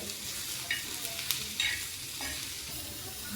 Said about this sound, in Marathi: आता हे कांदा आणि टोमॅटो आपल्याला छान असं परतून घ्यायचं आहे